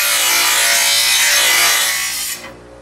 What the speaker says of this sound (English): in this scene, you'll see where I'm sharpening the blade and balancing it